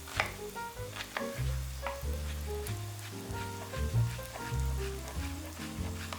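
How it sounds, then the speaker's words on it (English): A knife minces a shallot on a cutting board, a series of quick, fairly faint chopping taps in uneven rhythm over steady background music. "So I'm gonna start with mincing up the shallot."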